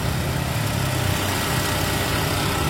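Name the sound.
Kia Visto 2002 car engine idling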